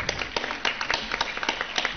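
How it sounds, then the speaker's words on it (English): Schoolgirls clap in a round of applause at a school welcome ceremony, a close, fairly steady patter of hand claps with sharp individual hits throughout. "A huge round of applause, girls."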